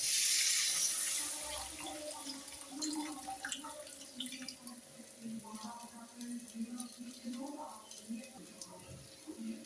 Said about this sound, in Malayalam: ഇനി നമുക്ക് പുളിവെള്ളമാണ് ചേർത്ത് കൊടുക്കാം